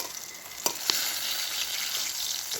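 Food fries and sizzles in a pan over a wood-fired clay stove, a steady crackling hiss with a couple of sharp clinks of stirring, close and moderately loud.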